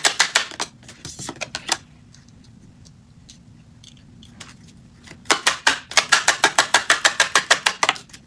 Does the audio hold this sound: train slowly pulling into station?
no